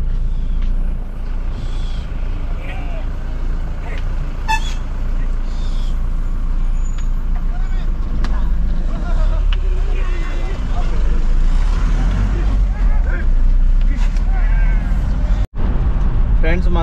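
Busy road traffic with trucks and buses around a vehicle hauling a cotton load: a constant low rumble of engines with a sharp air-brake hiss, and a person talking throughout.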